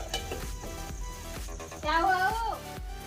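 Oil sizzles in a pot on a stove while preparing khari bhat, with a steady frying hiss, light clinks of utensils and a voice speaking over it midway.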